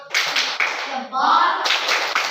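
Group of schoolchildren in a classroom performs a short patterned clap routine, bursts of quick rhythmic clapping broken by a brief pause and a spoken call.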